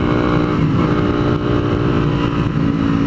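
Motorcycle engine running steadily at close range on an open road, a continuous loud rumble with engine drone throughout, ridden in cool, clear weather.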